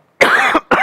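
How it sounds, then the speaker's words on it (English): A preacher coughs twice in quick succession, close and loud, a harsh burst followed by a shorter second cough, with no talking. "Next, I'm going to cough."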